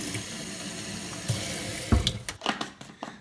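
Water pouring into a shaker bottle of maltodextrin drink, a steady soft stream followed by sharper sloshing and splashing bursts near the end, close up with no talk.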